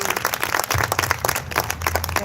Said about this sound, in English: Let's have a round of applause for Marissa.